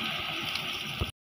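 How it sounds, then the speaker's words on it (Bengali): Water is poured into a pan of sautéed Malabar spinach seeds while cooking chicken gizzards and liver, a close, steady splashing gurgle lasting about a second before cutting off. "পানি দিয়ে দিয়েছি"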